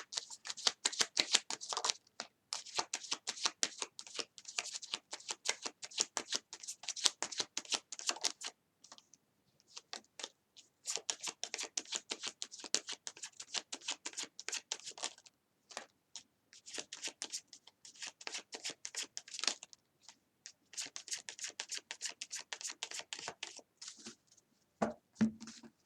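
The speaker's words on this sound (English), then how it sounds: "One more shuffle." Tarot cards shuffled in repeated bursts of crisp riffling and flapping, close and fairly loud, broken by short pauses between rounds, with no talking.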